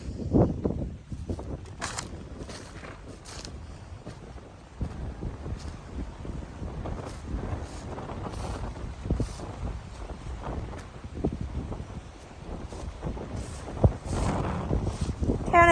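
Strong gusty wind on a rural farm plot where peanuts and corn are being planted, with a low, rough roar and buffeting that rises and falls throughout.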